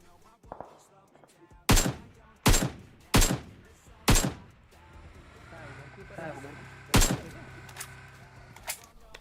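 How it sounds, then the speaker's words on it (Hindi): Gunfire in a battle royale game comes as five or six sharp, loud shots spaced about a second apart, with quieter game noise between them and a voice talking over it. "वहां से गोलियां चलने लगती है।"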